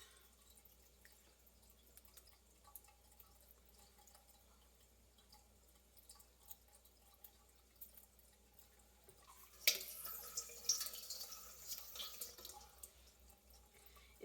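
Tap water runs into a sink while dandelion roots are washed, a faint steady trickle that swells into a loud, close gush about two-thirds of the way through.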